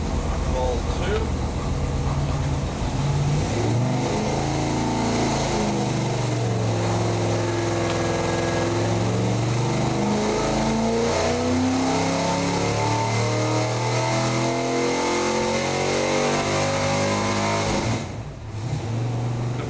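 A car engine on a dyno revs hard and continuously, pitch sweeping up and dropping in repeated climbs, loud and close, before briefly easing off near the end.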